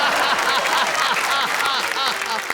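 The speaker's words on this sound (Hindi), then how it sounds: "ऐसी तालियां बजी तो और जोश आ गया" Dense audience applause at a Hindi comic poetry show, a steady wash of many clapping hands that fills the whole stretch at full, even loudness, with faint crowd voices mixed in.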